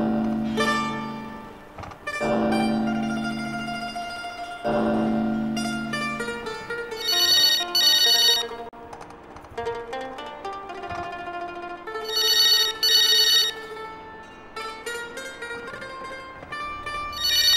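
A telephone rings in a home in an old Pakistani TV drama, sounding in repeated bright electronic bursts of trilling tones, loud and close, separated by short gaps, with musical tones at the start and no talk over it.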